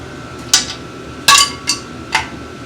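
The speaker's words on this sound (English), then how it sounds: "We got something on the loose inside the muffler." A loose part rattles inside a car muffler, giving four sharp, close metallic clanks at uneven intervals over a low background rumble.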